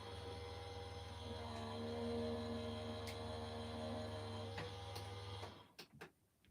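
A die-cutting machine works through paper with a steady low motor hum and faint mechanical ticks, winding down into a few clicks and knocks at the end; quiet and close, no voices.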